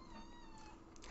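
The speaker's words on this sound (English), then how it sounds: "So yeah, that was my cat entering the room." A cat meows briefly as it comes into a room, a short, fairly quiet call with faint harmonic tones over low room noise.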